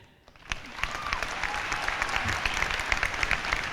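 Audience applause at a graduation ceremony swells in after a quiet start, then continues as dense, even clapping from a crowd at moderate distance.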